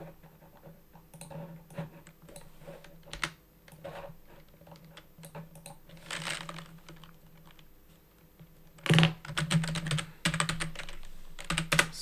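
Computer keyboard clatters with bursts of typing as code is written, keys tapping in irregular runs at close range, with a louder flurry of strokes near the end; low steady hum underneath.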